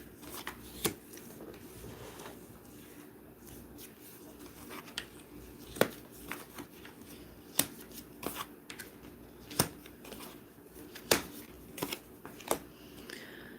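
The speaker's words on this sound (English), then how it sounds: "I just shuffled, and 2, 4, 6, 8, 10 cards came out for you" Tarot cards being shuffled and handled up close, with scattered crisp snaps and flicks spaced irregularly against a quiet room.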